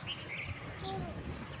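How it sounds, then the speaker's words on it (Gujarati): Parrots call in rainy weather near Girnar, with a few short, bright squawks and chirps over a constant wash of background noise. "જો પોપટ આવ્યા, જો પોપટ પોપટ."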